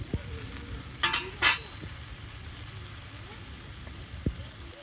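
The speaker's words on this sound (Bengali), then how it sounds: "ইচা মাছগুলো ভাজা ভাজা হয়ে আসছে।" Small shrimp sizzle steadily in a village kitchen pan, with a few sharp clinks and scrapes of stirring breaking through the constant frying hiss at close range.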